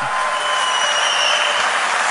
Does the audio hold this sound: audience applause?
yes